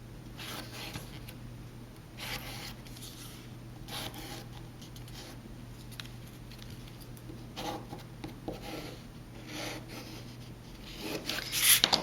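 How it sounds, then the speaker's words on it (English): Pencil tracing around a paper star on the back of a patterned sheet, a soft continuous scratching and rubbing with small irregular strokes, faint and close, ending in a few louder rustles. "place the star on the back side of the pattern you want to show and trace around it."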